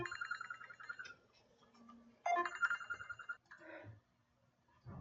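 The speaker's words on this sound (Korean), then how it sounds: "강의 중에 그냥 갑자기 전화가 오는 바람에" A mobile phone rings suddenly during a Bible lecture: repeated bright electronic tone bursts, fairly loud and close, with a short pause between phrases and no talk over it.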